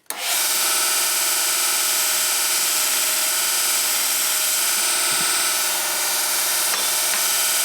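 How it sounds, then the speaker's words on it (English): A belt sander runs steadily and loud from start to finish, grinding a tapered angle on a wooden workpiece for a coach shop rocker piece, with a brief dip in pressure midway. "I'll do that on the belt sander."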